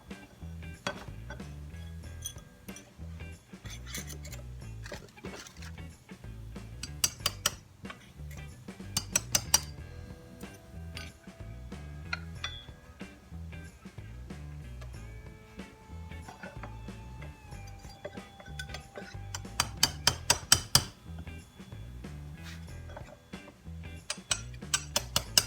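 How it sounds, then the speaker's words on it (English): Sharp metallic taps from a small punch driving worn bushings out of classic Tri-Five Chevrolet door hinges, a few clustered strikes with pauses between them over a steady low background hum. "I'm just using a small punch that'll actually go down the opening, and I can grab the top part of that bushing and just tap it out from the inside"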